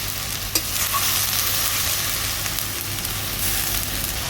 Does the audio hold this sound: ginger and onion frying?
yes